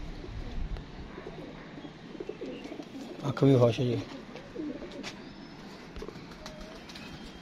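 A pigeon coos close by, a short burst of low throaty calls midway, under someone talking with faint chirps and rustling around it.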